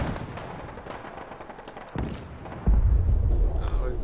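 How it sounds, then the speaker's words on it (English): Enemy gunfire in Fallout 4 outside Saugus Ironworks, a few distant shots followed by a louder burst of heavy thudding fire near the end. "every damn time I get over here, they start fucking shooting at me."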